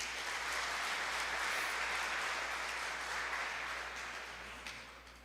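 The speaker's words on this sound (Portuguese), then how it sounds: "Vamos aplaudi-lo por isso, irmãos?" Sustained applause from a church congregation, steady and then slowly fading.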